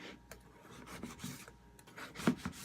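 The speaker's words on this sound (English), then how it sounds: "all I have to do is rotate this a couple of" A hand-operated salad chopper gadget is turned a few notches, giving soft scraping, rasping rubs and a few light clicks, with a sharper knock near the end, close and quiet.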